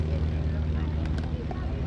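A WWII L-bird light propeller airplane flies at a 2017 World War II Weekend air show, its engine a steady, droning hum with a low tonal buzz, while someone talks over it.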